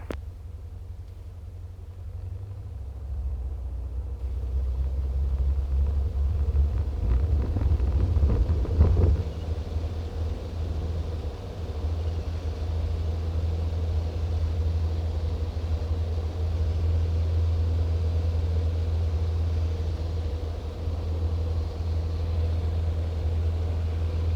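A light aircraft, registration G-AYEH, rolls down a grass strip for takeoff, its engine rising into a steady loud drone with rumble and wind buffeting throughout.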